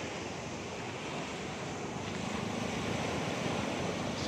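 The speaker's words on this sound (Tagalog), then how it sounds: "So ito yung karagatan dito sa Ilocos." Sea waves breaking along the coast of Ilocos, a continuous full roar of surf mixed with gusting wind buffeting the microphone, building slightly louder toward the end, with no voices.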